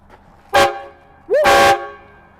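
A train horn mounted on a Duramax pickup truck blasts twice, a short loud toot followed by a longer booming note, very close and overpowering.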